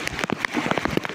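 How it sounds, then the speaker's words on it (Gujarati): Monsoon rain still pouring over a flooded village near Upleta, heard as a steady wash of close, crackling drops pattering on surfaces, with no talk over it. "હજી વરસાદ ચાલુ જ છે."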